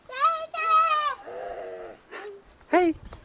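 Goat bleating in a rural hamlet, with wavering, voice-like bleats in several bursts mixed with nearby children's voices.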